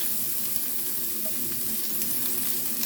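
Onion frying in a hot pan while making hot dog sauce: a steady, even sizzle, close and continuous, with no speech.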